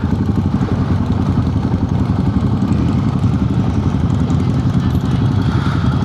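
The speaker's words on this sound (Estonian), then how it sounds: "No seal ikka tsikleid on selja taga ka juba päris palju" Several motorcycles riding behind, a loud steady rumble of engines close by with continuous clatter and no breaks.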